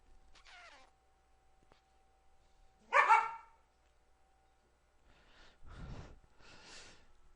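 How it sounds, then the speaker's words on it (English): Dogs barking indoors on a rainy day: a short bark near the start, then one loud sharp bark at the middle, followed by snorting and a few softer huffs and barks toward the end, with no speech. "the dogs happen to be inside"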